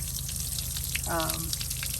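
Garden-hose water runs through flushing muffs clamped over the water intake of an outboard motor, a steady close rushing wash over a low hum, with a brief tonal gurgle midway.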